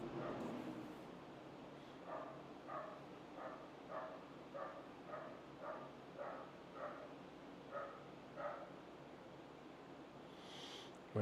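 A neighbor's dog barks in a distant, faint, regular series of about a dozen evenly spaced barks over a quiet background.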